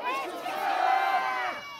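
A crowd at a rally in front of Seoul Detention Center shouting together in a single loud sustained chorus that swells and fades within a couple of seconds.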